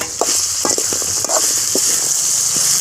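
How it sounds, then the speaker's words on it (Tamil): Beans sauté in a pan, a constant close hiss of frying with a spoon scraping and knocking against the pan in irregular strokes as they are stirred, with no voices. "பீன்ஸ் நல்லா வதங்கட்டும். வதங்குற வரைக்கும் நல்லா கிளறி விடுவோம்."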